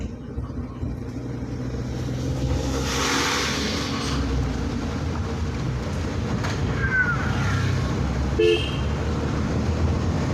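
A car's engine labours up a steep rain-season road toward Matheran in first gear, a steady loud drone with a rising strain, a brief horn toot near the end, inside the vehicle with no talk.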